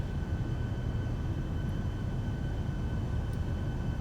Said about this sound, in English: We'll be taxiing for the next few minutes